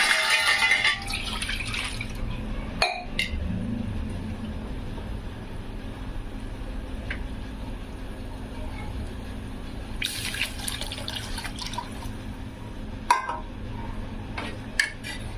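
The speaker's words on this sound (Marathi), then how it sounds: "तेवढं पाणी टाकून आपण करून घ्यायचं" Water being poured and splashing into a cooking pan of ground black hyacinth bean dal, with occasional clinks of utensils against metal, moderately loud and close.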